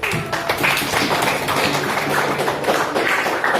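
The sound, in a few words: classroom applause after group presentation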